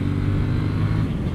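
A 2018 KTM Duke 790 motorcycle ridden on a road, its engine giving a loud, steady mid-pitched drone heard close up, with no voices.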